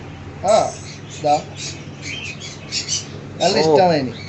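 Bird chirps and squeaky calls come in short bursts, a few near and fairly loud, with quieter chatter between them.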